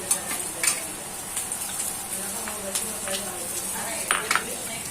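Ginger and garlic sizzling as they are stirred in a frying pan, a steady soft crackle with faint scrapes of the spoon, no voices over it.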